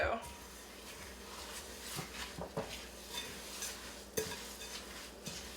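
Wet ingredients being stirred into dry ones in a bowl produce soft scraping and squishy mixing with irregular knocks of a utensil against the bowl, quiet and close against faint background hiss.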